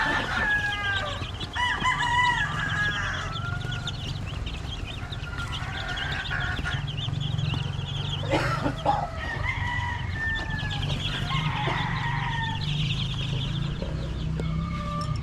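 Kelso, brown head and Gilmore gamefowl roosters crow repeatedly at varying distances, with clucking and other farm bird calls filling the background.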